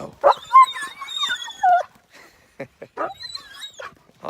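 Dogs whimper and whine in high, wavering cries close by, then give a few short yips and barks, with brief quiet gaps between bursts.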